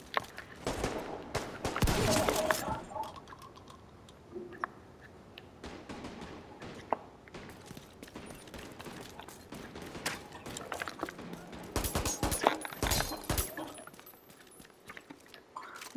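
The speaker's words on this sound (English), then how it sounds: "the fucking gunshots ring out" Sharp bursts of gunfire crackle in scattered volleys, loudest early and again near the end, with quieter clicks and rustling between shots, in a Tom Clancy's The Division game set in Washington D.C.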